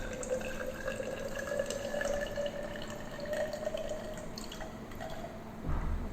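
Distilled water poured into a glass Nessler cylinder during a laboratory iron limit test makes a steady, moderately loud trickle with dripping splashes and no voices throughout.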